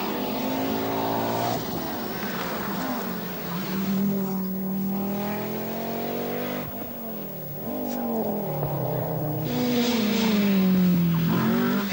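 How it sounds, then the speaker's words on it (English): Henri Toivonen locks the wheels of his Opel Ascona rally car at the 1982 RAC Rally. A loud, close engine howls and shifts pitch, with a hint of tyre scrubbing under the sustained roar. "Henry Toivonen locks the wheels of his Ascona in a desperate bid to stay in touch with the Quattro."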